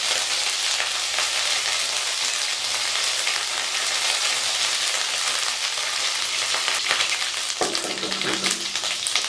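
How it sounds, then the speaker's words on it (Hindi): Ginger garlic paste and cumin frying in a pan for bhindi ka salan, giving a loud, continuous close sizzle with occasional stirring scrapes throughout. "अदरक लहसुन का पेस्ट 1 चम्मच ये मैं इसमें शामिल कर दूंगी। और इसको मैं भून लूँगी।"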